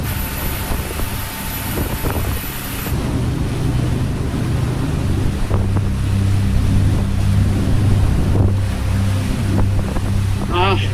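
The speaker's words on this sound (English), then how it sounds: "Seems like that Ford engine just is louder than the other one." A boat's Ford engine drones steadily under heavy wind noise and splashing water, with the engine pitch shifting partway through.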